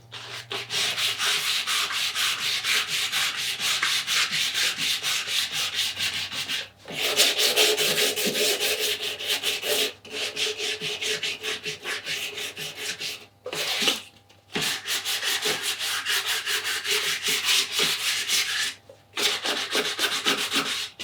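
Close, rasping strokes of 240-grit sandpaper on the fibreglass of a surfboard fin come in long continuous runs broken by a few short pauses, with no talking.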